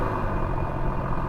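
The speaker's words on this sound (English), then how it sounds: "The engine sounds good, but the exhaust sounds terrible" A Mercedes W210 engine idles with a poor-sounding exhaust, giving a steady low rumble close to the microphone with no talk.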